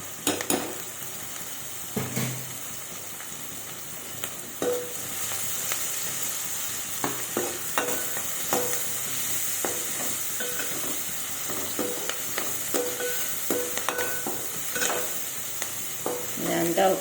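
Ginger garlic paste with turmeric and salt frying in a pan for a broad bean curry, a steady close sizzle with occasional scrapes and clinks of a spoon stirring against the pan.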